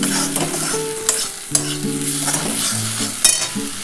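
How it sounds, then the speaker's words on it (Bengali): Masala for a dhaba-style egg curry is stir-fried with a splash of water, a loud close sizzle broken by scraping strokes of a spatula and clanks against the pan, with a few sharp bursts. "জল দিয়ে কষাবো আর একটু।"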